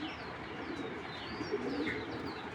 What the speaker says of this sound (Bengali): এটা হলো বিডার কবুতর।